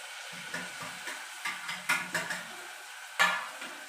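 Tomato gravy goes into a pan of fried garlic and chillies for a Ratlami sev curry: soft clanks and scrapes of a spoon against the pan, a brief sizzle, then a sharper metallic knock near the end, close and fairly quiet.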